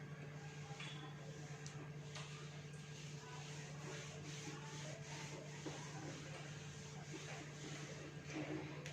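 Writing rubbed off a classroom board with a duster or cloth, a soft continuous scrubbing and swishing over a steady electrical hum, faint and fairly close.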